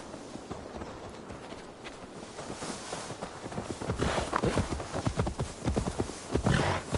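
Horse hooves clip-clop in Assassin's Creed Valhalla as a horse is led along, rhythmic footfalls growing louder and closer.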